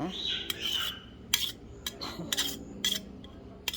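A cooking utensil scrapes and clinks against a pan while squid is stir-fried with curry paste, giving several sharp metallic knocks and scrapes at an irregular pace, close by and fairly loud, with no voices.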